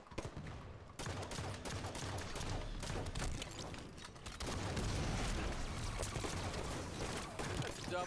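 Halo 5 multiplayer combat with dense gunfire and grenade explosions, loud continuous bursts and booms layered together, with a short drop partway before the firing surges back.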